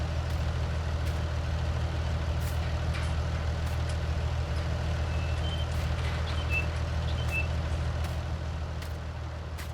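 Tractor in Farming Simulator 19 rumbling steadily with a loud, constant low engine drone, while repeated reversing beeps sound throughout.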